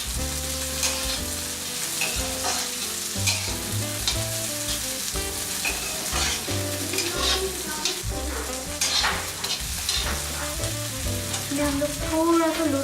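Fresh peas and onions frying in a pan, a continuous sizzle with stirring scrapes and light clinks of a utensil, close and steady, no voices.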